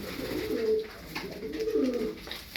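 Tumbler pigeons coo nearby, two soft, rolling throaty phrases following each other over a faint background, with no talking.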